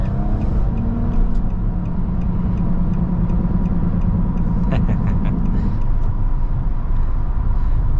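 A 2022 Nissan Maxima with a 3.5-litre naturally aspirated V6 and CVT, heard from inside while driving: a steady, loud low engine and road rumble that continues throughout, with a brief rise in noise midway.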